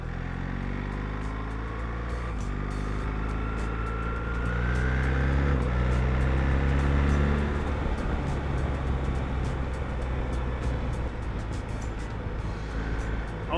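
A 2024 BMW R1300 GS motorcycle being ridden, its engine note climbing through gears with rising harmonic tones and shifts, steady road and wind rush underneath, no talk.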